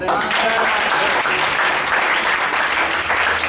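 A church congregation breaks into dense, continuous applause, loud and close, a steady wash of many hands clapping with no pauses for the whole moment.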